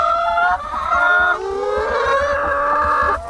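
Several chickens in a farm coop cluck and squawk loudly and close by in overlapping, drawn-out calls.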